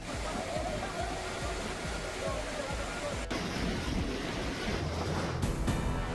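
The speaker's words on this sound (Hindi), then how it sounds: "ब्यास नदी में रिवर राफ्टिंग का आनंद ले रहे सैलानी" Loud, steady rush of river water on the Beas River during whitewater rafting, a broad continuous roar with wind buffeting the microphone throughout.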